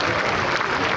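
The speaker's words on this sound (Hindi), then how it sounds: "जोरदार तालियों से एक बार अपने स्थान पर खड़े होकर तालियां बजाएं।" Dense audience applause at a formal government technical conference hall, a loud, steady wash of many hands clapping for a brief moment.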